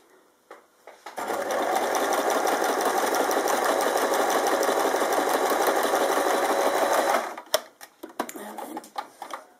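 A sewing machine fitted with a bias binding foot runs steadily for about six seconds stitching bias binding, loud and close, then stops, followed by small handling clicks and rustles.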